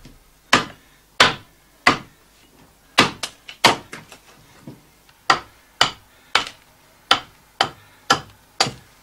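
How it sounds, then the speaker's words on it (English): A hand axe shapes a wooden chair seat in a steady series of sharp, close chopping strikes, roughly one every half second, with short pauses between the groups of blows. "He shapes the seat with the hand axe."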